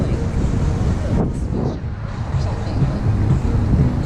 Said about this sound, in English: it got so windy I couldn't keep my eyes open